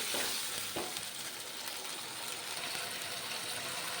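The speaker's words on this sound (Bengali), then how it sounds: "রাজমা রান্না করে নিচ্ছি ভালো করে" Rajma cooks in a pan with a soft, continuous sizzle and light stirring scrapes, fairly quiet and close, with no voices.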